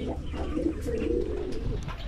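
A pigeon coos close by in a loft, a low throaty murmuring call that rolls on steadily with faint rustling in the background.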